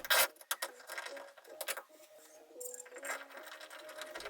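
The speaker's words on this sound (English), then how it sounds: "here's a pretty good close-up of me putting that wall anchor in" A wall anchor is driven into sheetrock in a closet with brief grinding and rasping scrapes, a whirring tone and a few sharp knocks. It is close and short.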